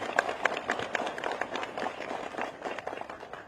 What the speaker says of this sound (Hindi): एक तालियां उनके नाम पे होनी चाहिए।